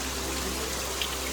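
Rain falling at Rajmachi fort during a monsoon trek, a steady, even hiss of drops with no voices.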